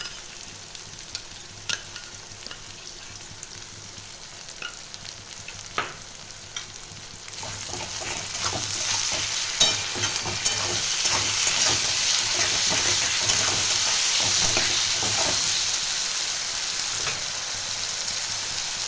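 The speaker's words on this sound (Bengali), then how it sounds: "এখানে দিচ্ছি আদা রসুনের পেস্ট, 3 চামচ আছে আদা রসুনের পেস্ট" Ginger garlic paste dropped into hot oil for khichuri, a quiet start giving way to a loud, steady sizzle with stirring scrapes, close and sustained.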